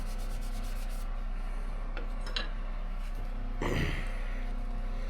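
Oil is rubbed into an apple wood knife handle with soft, intermittent scrubbing strokes over a steady low hum, close and fairly quiet, with no talking.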